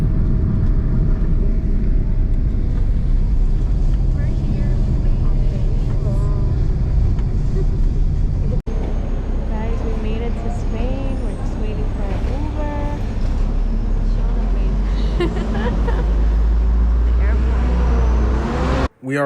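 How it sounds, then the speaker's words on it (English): Taxi ride through Madrid from inside the car, with steady low road and engine rumble throughout and people talking over it, plus a brief bump near the middle. "We are on the taxi here on our way to our first hotel."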